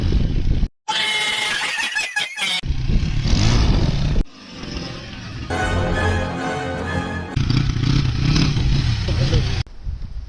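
An off-road dirt bike roars up a steep hill in Nepal, its engine revving hard in loud, uneven surges that cut in and out. Voices shout over the engine.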